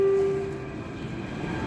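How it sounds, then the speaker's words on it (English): An empty MTR K-Train arriving at Tiu Keng Leng on the Tseung Kwan O line: a steady tonal whine that fades early, over a loud, continuous rail rumble with no talk. "So yep, it's an empty K-Train."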